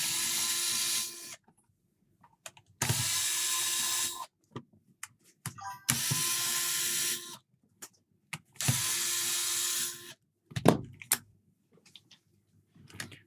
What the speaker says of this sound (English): This is coming off as well, so we will take the screws out.